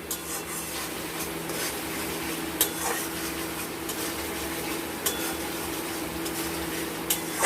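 Katla fish in a mustard and poppy-seed paste being stirred in a pan, a steady scraping rub with faint sizzling and occasional sharp clinks of the spatula against the pan, close and continuous without talk.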